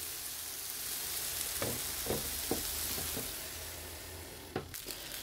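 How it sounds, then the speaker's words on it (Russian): Eggplant slices sizzle steadily in a hot pan, a constant crackling hiss broken by a few soft clinks and bumps of a utensil. "Обжариваю с другой стороны."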